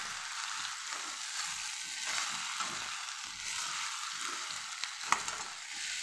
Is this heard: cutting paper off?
no